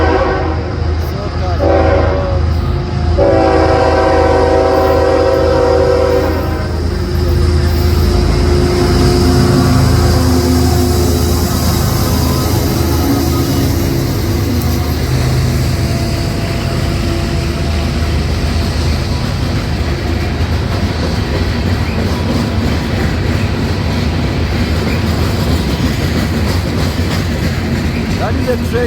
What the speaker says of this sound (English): The train is approaching right there.